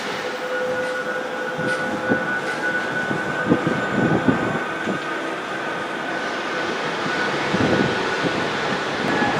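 A Manchester Metrolink tram rumbles at the Victoria Station stop, a steady rolling drone with light clanks and rattles, echoing under the station roof.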